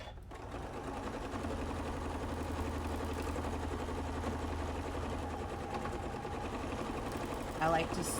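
A sewing machine runs steadily through free motion quilting of swirl patterns, a continuous even whir with a low hum, close and fairly quiet, with a brief bump near the end.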